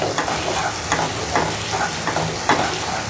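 Ginger garlic paste frying in a pan with a dense, close sizzle and soft periodic scrapes from stirring, steady throughout with no talking.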